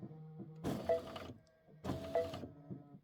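An embroidery machine stitching a 22-inch Kimberbell Let It Snow pillow design runs in two loud mechanical bursts, each about a second long, with a quieter whirring hum before, between and after them.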